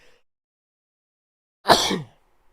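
One sharp, loud sneeze bursts out in a quiet room, then silence follows.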